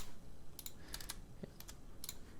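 Faint, scattered clicks of computer keyboard keys pressed a few at a time during UI design work, quiet and close with no talk over them.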